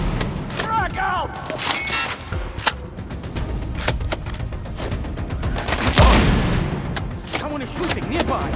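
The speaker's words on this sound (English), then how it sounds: "I'm listening to gunfire!" Gunfire in the video game Sniper Ghost Warrior Contracts 2: a dense run of sharp shots and booming blasts, some close and loud, others echoing farther off, with a few faint voice fragments mixed in.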